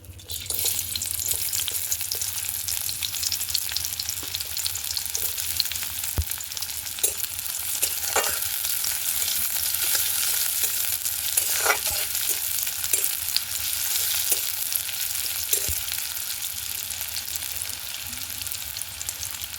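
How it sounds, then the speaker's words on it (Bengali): Chopped onion frying in hot mustard oil, a loud continuous sizzle and crackle with occasional stirring scrapes and pops, heard close and alone for a long stretch with no voices. "তেল গরম হয়ে গেছে, দেব কুচানো পেঁয়াজ"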